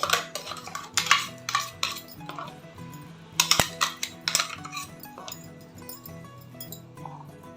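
A utensil stirs and scrapes inside a metal pot of mutton curry with ground coconut paste, with irregular clinks and clatters close by and no voices.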